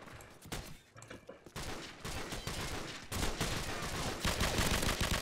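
Loud, dense automatic gunfire from Call of Duty 4 on the Backlot map against bots, with rapid overlapping bursts that continue almost without a break and grow heavier toward the end.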